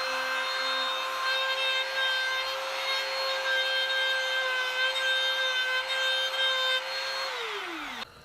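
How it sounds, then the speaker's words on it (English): A router with a bearing-guided straight bit whines steadily while cutting the tenon on the end of an acoustic guitar's wooden neck, loud and continuous, then spins down at the end. "now I can fire up the router and using a straight cutting bit with a bearing, cut the tenon on the end of the neck"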